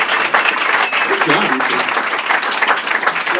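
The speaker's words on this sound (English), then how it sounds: "Give both of these ladies a round of applause for being hilarious" A comedy roast battle audience bursts into dense, continuous clapping that stays loud and even for a few seconds.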